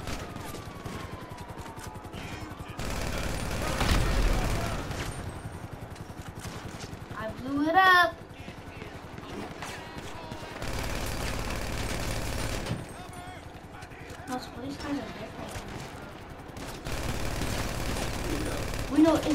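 Gunfire in Grand Theft Auto V, bursts of shots and an explosion-like blast around the middle under ongoing chatter and game noise, with voices talking over much of it.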